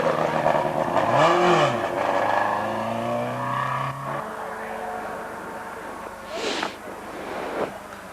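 Rally cars on the Glenealy stage of the 1988 Wicklow Rally, with a loud engine sweeping past early and fading, then quieter engine noise and crowd murmur.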